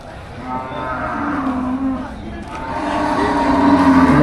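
Jersey cows and buffalo at a cattle market, heard as loud, close, drawn-out moos and lowing that overlap one another over a busy crowd murmur, with people talking nearby.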